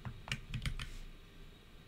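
Quick, quiet keystrokes on a computer keyboard running Linux, a short cluster of clicks early on, then faint room hiss with no speech.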